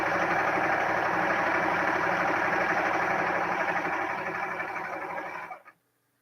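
A serger runs continuously, sewing jelly roll quilt fabric strips with a loud, even mechanical whir that holds steady and then winds down and stops near the end.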